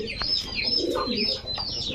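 Several Giribaj tumbler pigeons coo softly and repeatedly nearby, their low burbling calls overlapping with faint chirps.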